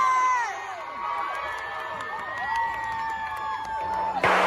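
A coach shouts encouragement to his team amid a crowd of excited, cheering youthful voices, with whoops and calls overlapping and a sharp noise burst at the end.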